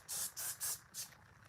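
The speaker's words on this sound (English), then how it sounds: "I'm also going to use my spray" Four short bursts of aerosol hair spray hissing close by during a wig install, each under half a second, separated by brief pauses.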